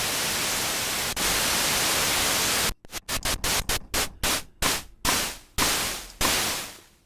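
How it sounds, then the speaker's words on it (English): Noise generator of a Knifonium synthesizer with the VCOs switched off, a loud broadband hiss held steady, then chopped into a rapid run of sharp noise bursts that slow and lengthen. "If we go to init, turn off the VCOs and turn up the noise."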